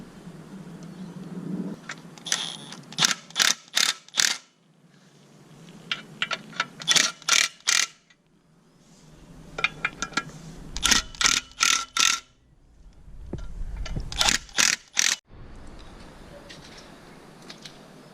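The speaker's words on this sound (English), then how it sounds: "when we tighten these bolts down, it should push this back and we should be able to get it home" A ratchet tightens bolts during a manual transmission conversion on an L67-engined car, giving close, loud bursts of rapid clicks in several groups separated by short pauses and lower mechanical rumbles.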